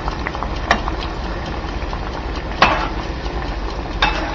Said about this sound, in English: Keep moving them around so that way there they can just kind of dance in the oil here that you're frying.